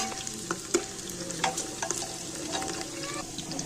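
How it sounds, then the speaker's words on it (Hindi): Whole black cardamom and cinnamon are stirred in a hot pan, frying with a steady sizzle while a spoon scrapes and taps the metal in quick, close strokes. "अब मैं इसमें डालूंगी बड़ी इलायची और दालचीनी, थोड़ा सा स्टर करेंगे"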